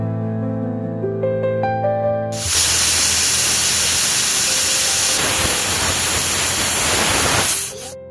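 A pressure cooker whistle releases steam in a loud, steady burst of hiss that begins after a couple of seconds of soft background music, holds for about five seconds, then cuts off.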